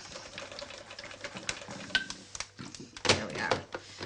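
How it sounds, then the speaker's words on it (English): A sewing machine stitches a fabric pocket tissue holder, with quiet, uneven bursts of clattering needle action and short pauses between runs. "I'm going to sew it on the machine because it just means we'll get through it that little bit quicker."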